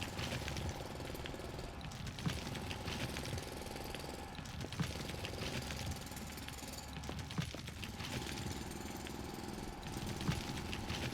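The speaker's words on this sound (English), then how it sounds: "The drill does have a decent range." A drill in the video game Foundry grinds through ore nodes with a dense, loud, continuous mechanical rattle and hammering, rising and falling slightly as it bites into each node, with no voices.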